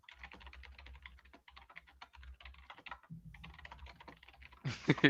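Fast typing on a computer keyboard makes a continuous, close clatter of rapid keystrokes, ending in a louder burst of keys.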